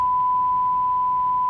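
A steady 1 kHz test tone plays through a 1965 Ampeg vacuum tube guitar amplifier with its reverb tank on, one pure unbroken pitch over a faint low hum, lasting the whole moment.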